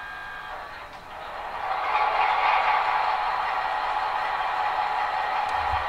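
A Piko BR 211 model diesel locomotive runs its sound function, a steady engine drone that swells after a second or two and then holds a constant hum with a faint high whine, no talking.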